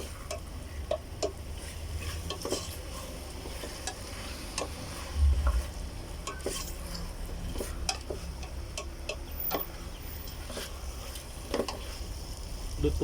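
Salmon belly for sinigang goes into a pot with tomatoes and cooks, producing a steady low simmering sizzle with scattered light clicks and stirring scrapes throughout, fairly quiet and without talk.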